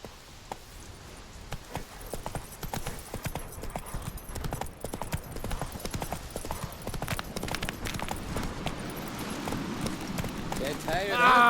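A horse gallops in The Witcher 3, rapid clip-clop hoofbeats pounding steadily over several seconds and growing louder and denser toward the end.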